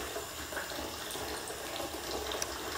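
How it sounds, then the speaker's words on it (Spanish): Steady running water, like a tap or gentle stream, flows continuously as a soft, even wash of sound behind a calm guided meditation, with no talking over it. "Mientras escuchas el agua correr"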